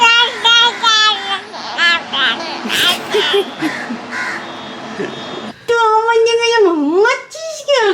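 A crow caws repeatedly nearby, loud and close, while a person mimics its calls and a voice and other talk come through in between.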